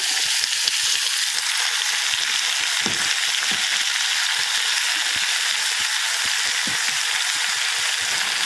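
Thuthuvalai leaves sautéing in a hot pan with mint, a dense continuous sizzle with scattered crackles and light stirring scrapes, close and loud throughout with no talking.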